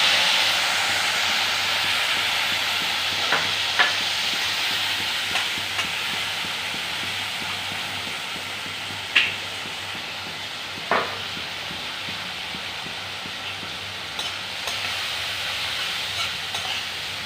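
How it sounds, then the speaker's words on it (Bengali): Tomato and ground cumin, chilli, turmeric and coriander frying in a pan for a banana flower curry, a steady close sizzle and hiss with a few sharp spatula scrapes and taps scattered through it. "একটু ভাজা ভাজা হোক, তারপর মোচাটা দেবো।"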